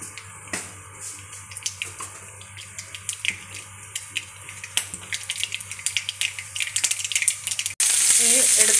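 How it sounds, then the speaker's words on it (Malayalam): Mustard seeds dropped into two spoons of hot gingelly oil in an iron frying pan for lime pickle crackle and pop in sparse bursts that grow busier, ending in a sudden loud sizzling hiss. "ചീനച്ചട്ടി വെച്ച് ചൂടായി കഴിഞ്ഞപ്പോൾ രണ്ട് സ്പൂൺ നല്ലെണ്ണ ഒഴിച്ച് അതിലേക്ക് കടുക് ഇടുക"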